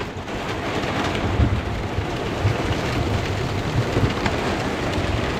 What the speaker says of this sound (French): C'est comme de la grêle.